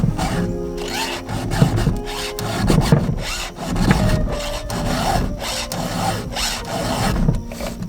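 A file strokes across a chainsaw chain in a repeated rhythm of scraping rasps, each pass close and fairly loud, the back-and-forth cycling about once a second with no talk.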